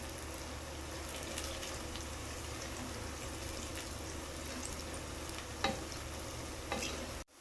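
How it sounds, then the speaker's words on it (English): Onions stir-fried in a pan for biryani give a faint, continuous sizzle with light scraping of the stirring, and a brief clatter comes near the end. "Stir fry the onions until they turn golden brown."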